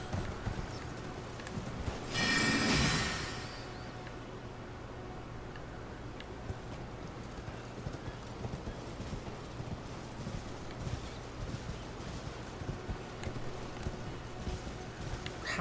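Horse hooves walking in Elden Ring, a steady, faint clip-clop under a low ambient bed, with a brief louder rumbling burst near the start.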